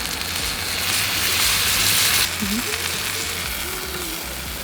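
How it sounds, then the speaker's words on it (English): Skirt steak sears on a hot Blackstone griddle with a loud, close, continuous sizzle that is a little stronger in the first half before easing slightly, heard alone without talk. "We just wanna sear the steak on the outside."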